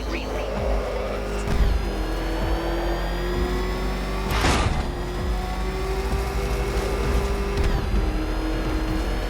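The Batmobile's engine in Batman Arkham Knight drones steadily and loudly, its pitch shifting as it revs, with a brief roaring surge midway.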